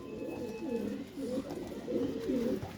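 Paired pigeons of Faisalabadi and Kasuri breeds coo steadily in a continuous run of low, rolling calls, close and fairly loud, with no talking.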